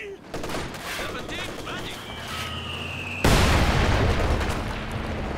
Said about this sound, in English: peppering away here with the MG